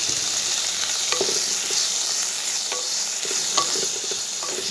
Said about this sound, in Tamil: இது நல்லா 1 நிமிஷம் வதங்கட்டுங்க.